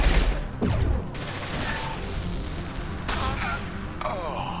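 Gunfire and explosions from the video game Mass Effect 2 during a firefight with shooting around cover. Loud bursts and booms come close together over constant battle noise.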